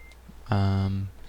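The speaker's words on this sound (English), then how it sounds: "I'm gonna back up the truck." A truck backs up in the video game Euro Truck Simulator 2 and a single sustained electronic tone sounds clearly for about half a second, then cuts off, over a quiet background hum.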